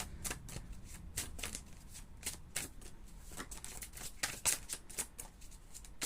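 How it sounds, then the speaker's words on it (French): Oracle cards are shuffled and handled from a deck, a quick series of soft, close riffling flicks in steady rhythm, quiet and alone. "On va juste tirer une petite carte pour le lien."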